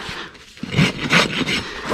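A farrier rasps the pigmented hoof wall of a mustang during a trim, giving short uneven scraping strokes close to the microphone, roughly three or four rubbing passes with no talking.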